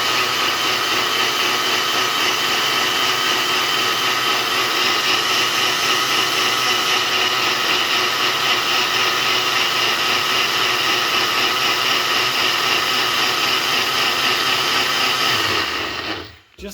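A blender runs steadily at high speed, whirring loud and continuous as it mixes a keto gelato ice cream base made with Hoosier Hill Farm vanilla bean Flava Mix, then cuts off abruptly at the end.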